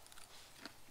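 Biting into a hatchery rainbow trout crusted in crunchy BBQ chips, a faint close crunch with a brief sharp crack partway through.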